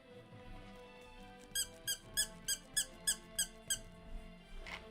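A vintage Star Wars R2-D2 toy gives a run of about eight sharp, evenly spaced squeaks, close and clear over a quiet background, with a softer squeak or two trailing after.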